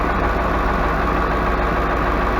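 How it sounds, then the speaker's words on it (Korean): Dodge Dakota V8 idling steadily with an electric cooling fan, the bonnet open; a continuous low, even engine drone with a fan whoosh, close and unbroken, no voices. "이게 거의 일반 아이들 RPM으로 돌아왔어요"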